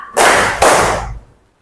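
A fourth-grade class in a classroom claps together in unison, two loud, sharp, close bursts in quick succession that fade out, with no talking.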